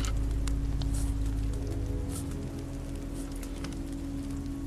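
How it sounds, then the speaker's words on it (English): Steady rain pattering in The Walking Dead: Season Two, a constant broadband hiss with scattered drip taps over a low rumble, holding level throughout without speech. "This rain will turn to sleet."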